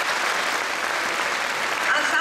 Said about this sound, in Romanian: Aplauze, vă rog, pentru ele!